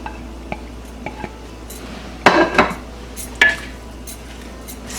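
Egg fried rice stirred in a claypot and wok: a few scattered scrapes and clinks of a utensil against cookware, with two louder bursts of scraping midway, otherwise quiet.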